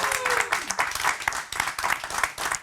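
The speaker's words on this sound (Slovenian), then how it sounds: "en lep aplavz za gospoda Žerjala" A studio audience claps for a guest, a dense burst of applause with uneven rhythm that carries steadily through the short stretch, fairly close and lively.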